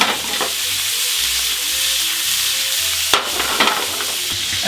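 Tuna pieces frying in a hot pan and being turned over, a steady loud sizzle with occasional scrapes and clatters of a utensil, close by with no talk.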